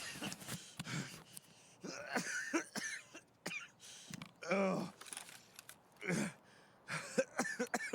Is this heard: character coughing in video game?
yes